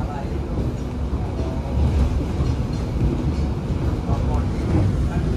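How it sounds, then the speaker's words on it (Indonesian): The KA Pandalungan train runs straight through Bayeman station without stopping, heard as a steady, loud rumble of wheels and carriages over the rails that holds through the whole stretch. "Melintas langsung di stasiun Bayeman."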